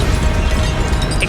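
Spell blasts from Confringo and Incendio in Hogwarts Legacy, a dense, loud rumbling burst of fiery impact noise that fills the whole moment without a break.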